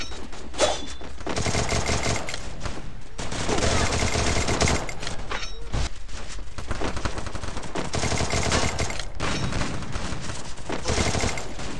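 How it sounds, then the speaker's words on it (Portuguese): Video game gunfire in dense, loud bursts of rapid automatic shots with brief pauses between volleys, sharp close cracks layered over one another. "foi tiro pra um lado, tiro pro outro"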